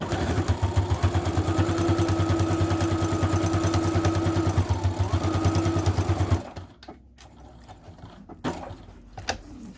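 A sewing machine stitches a lining piece to outer fabric for a boxed-bottom zipper pouch, a steady close whirring drone for about six seconds. It then stops, leaving faint handling clicks and rustles.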